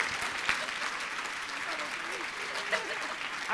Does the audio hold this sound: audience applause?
yes